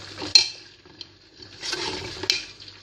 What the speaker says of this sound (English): I'm going to allow this to just fry for some time